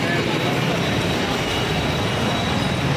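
A Kochi metro train runs steadily, its continuous broadband rumble and rail noise filling the whole stretch at close range, with no clear voices.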